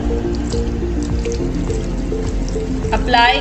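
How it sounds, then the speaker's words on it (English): Tap water runs and drips over wet hands at a sink, a steady close trickle with a short louder splash near the end. "Wet hands with water."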